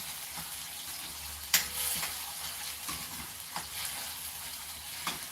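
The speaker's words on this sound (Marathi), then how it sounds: "एकसारख्या चमच्याने हलवत कांदा हा एकसारखा परतून घ्या" Onion sautéing in a pan for a farsan vegetable dish, a soft continuous sizzle broken by scattered scrapes and taps of a spoon stirring, fairly quiet and without talk.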